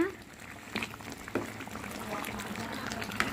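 Chicken curry boils in a cooking pot, with a continuous low bubbling and occasional splashy pops heard close up, while some clattering sounds briefly over it.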